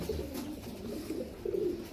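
An Ambarsary pigeon, an old Indian breed, gives soft, low, throaty coos in a repeated rolling pattern against a faint background hum.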